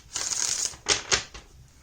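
Decks of tarot cards are shuffled close up, with a sustained riffling flutter followed by a few short, sharp card snaps.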